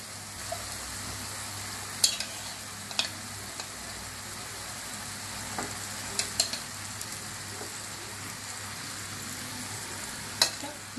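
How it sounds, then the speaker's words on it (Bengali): Chicken pieces being stirred and fried in oil in a pot for a rice pilaf, giving a soft continuous sizzle with occasional scraping clicks from the spoon, fairly quiet and close, with no voices. "মাংসগুলো দিয়ে দেবো। হ্যাঁ, এটা দিয়ে কিছুক্ষণ নেড়ে ছেড়ে"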